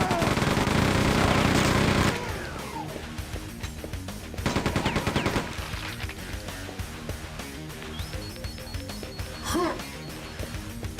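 Turret gunfire in Quake II: a dense burst of rapid shots, then a shorter rattling volley and a later single blast, all over loud industrial game music.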